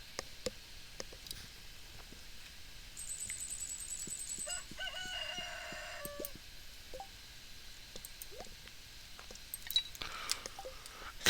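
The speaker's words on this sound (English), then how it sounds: "Roosters crow whenever they bloody well feel like it" A rooster crows in the farming video game Stardew Valley, a clear synthesized cock-a-doodle-doo in the middle of the clip over a soft ambient bed with scattered light ticks and clucks.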